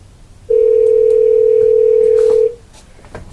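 A single steady telephone tone sounds loud and clean for about two seconds while a call is placed, then cuts off, leaving faint room noise and small clicks.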